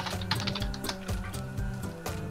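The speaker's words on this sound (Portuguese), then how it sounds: "O que você tá digitando aí" Quiet clicking of keys on a computer keyboard, rapid irregular taps in a room with a low steady hum of background noise.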